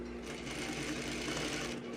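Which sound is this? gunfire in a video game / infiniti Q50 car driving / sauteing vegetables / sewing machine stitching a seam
sewing machine stitching a seam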